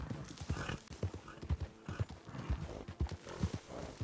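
A tired horse walks in Red Dead Redemption II, its hooves clip-clopping in a steady close rhythm of distinct thuds with no talk over them.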